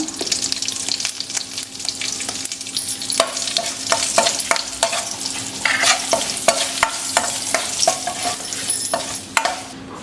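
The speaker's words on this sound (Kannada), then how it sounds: "ಸಾಸಿವೆ ಸಿಡ್ಲಿದ್ಮೇಲೆ ಮೇಲೆ ಒಂದೇ ಒಂದು ಮೆಣಸಿನ್ಕಾಯಿ ಹಾಕ್ಕೊಂಡಿದ್ದೀನಿ" Mustard seeds, green chili and asafoetida sizzle and crackle in hot oil for a coriander leaf tambuli tempering, a steady close frying hiss with scattered sharp pops throughout.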